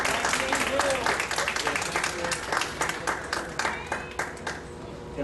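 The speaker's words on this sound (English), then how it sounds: "let's give a round of applause to James" Graduation audience applauding James, a dense wash of many hands clapping that stays loud and steady before thinning slightly toward the end, with scattered voices under it.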